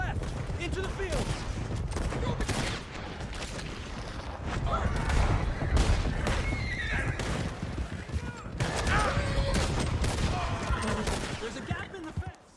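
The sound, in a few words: horses neighing during chase, from video game Red Dead Redemption 2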